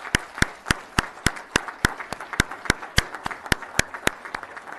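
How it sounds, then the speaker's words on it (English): Audience applause at a Pima County Board of Supervisors meeting, with sparse, uneven claps ringing out steadily in a hall for the whole stretch, moderately loud and without talk. "Give them a nice round of applause."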